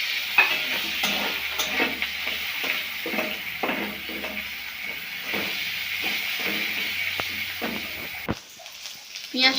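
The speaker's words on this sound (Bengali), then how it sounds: "হালকা ভাজা হয়ে গেলে এতে আমরা দিয়ে দেবো কুচনো পেঁয়াজ" Chopped onion frying in oil with bay leaf, cardamom, cinnamon and cloves for a jackfruit curry, a steady close sizzle with repeated stirring scrapes, continuous throughout and ending in a sharper clatter.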